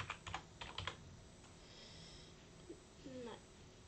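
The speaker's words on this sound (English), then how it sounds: "Let me just type in devil." Computer keyboard typing while making avatars in a MeepCity game, a short burst of quick faint clicks at the start followed by quieter background noise and a couple of soft stray sounds.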